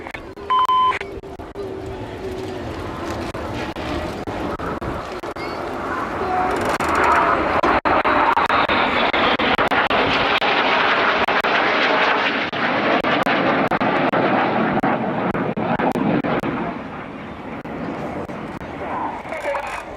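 Aerobatic display jets of the Red Arrows and an M-346 perform a roaring overhead pass, building into a loud broad rumble that peaks mid-clip and slowly fades, with a commentator talking over it.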